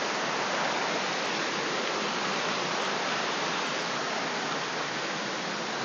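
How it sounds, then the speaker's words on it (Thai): Tat Mok waterfall in Phetchabun pours down a steep drop beside a trail, making a steady, even hiss of rushing water that holds without a break. "ฝั่งด้านขวาก็จะเป็น ทางน้ำตกที่ไหลลงมานะครับ"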